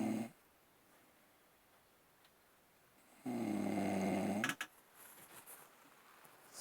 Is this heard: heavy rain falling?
no